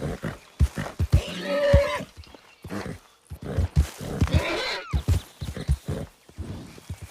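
A horse in Red Dead Redemption 2 neighs and whinnies while being broken in, with stamping hoof clops and scuffling around it; no talk is heard.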